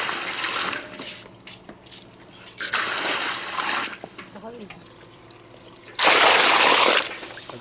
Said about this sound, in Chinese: 这生蚝不是很大，我们把表面洗一下